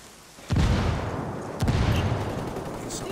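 Gunfire in a video game shootout, two loud close shots or blasts about a second apart, each followed by a long rumbling decay that fills the rest of the moment, with no talk.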